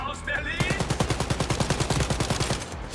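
Rapid automatic gunfire in a video game rattles off in a fast, even burst of about twenty close, loud shots, with a brief voice at the start.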